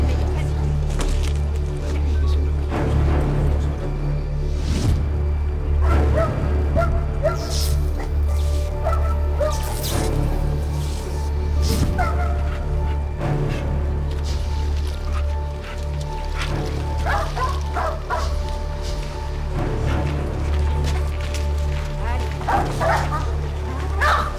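A tracking dog on a search yips, whimpers and barks excitedly in short repeated bursts, close and loud over a steady low rumble, while a handler talks and urges it on.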